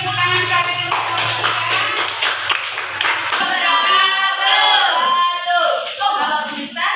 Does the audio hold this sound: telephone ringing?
no